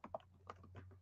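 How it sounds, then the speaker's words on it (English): Keys clack on a computer keyboard in a quick, uneven burst of close taps over a steady low hum, with no one speaking. "I'm typing without looking at it."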